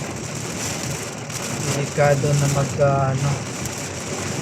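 Steady rain in Manila patters as a constant hiss, with a person talking briefly over it partway through.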